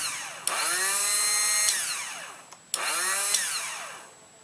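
A motorcycle starter dynamo spins up twice, each burst a loud rising-then-falling whir lasting about two seconds, with a sharp click at the start of each run and a short pause between them.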